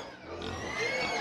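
An eight-month-old pregnant pig on a farm grunts softly in a brief, low rumble against steady background noise.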